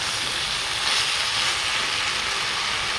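Hot water saved from boiling vegetables is poured into spiced vegetables in a pan, making a steady, loud, hissing rush of sizzle and bubbling that lasts throughout, with no talking.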